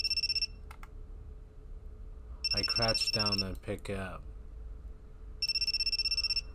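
An old-style telephone bell rings in bursts in the video game You Me and Her: A Love Story, shrill trilling rings at the start and again near the end, with a voice speaking in between.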